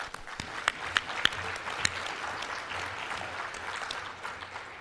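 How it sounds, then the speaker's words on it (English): Attendees at an annual leadership meeting of chiefs and health leads from British Columbia clap together in a soft, distant, sustained round of applause, with a few sharper individual claps standing out near the start. "Give yourselves an applause."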